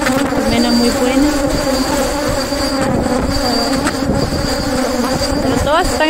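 Bees in a beehive during an inspection by women beekeepers, a steady, dense buzzing hum that fills the whole stretch, with voices talking over it.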